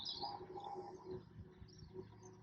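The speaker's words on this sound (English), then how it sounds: "there is a lot of noise from the birds" Faint birds chirp and call in the open air, with a soft low coo among them and a quiet background hum.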